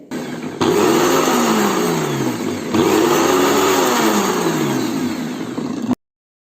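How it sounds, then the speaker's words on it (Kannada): Mixer grinder whirring as it grinds garlic cloves for homemade mayonnaise, a loud steady motor roar in two long bursts with rising and falling pitch sweeps, then a sudden stop into silence, no talk. "ಇದಕ್ಕೆ 2 ಬೆಳ್ಳುಳ್ಳಿ ಹೆಸಳನ್ನು ಹಾಕಿ ನಾನು ಗ್ರೈಂಡ್ ಮಾಡ್ತೇನೆ"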